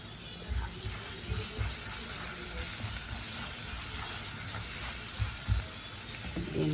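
Mutton liver frying in a pan with dried red chillies, salt and turmeric, a low continuous hiss with soft bumps and stirring noises, moderately quiet and close.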